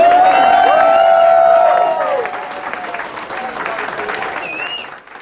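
A Brighton art battle audience cheers, claps and whoops for the artists in a loud, sustained burst that fades toward the end, with a host's voice ringing out over the crowd at the start.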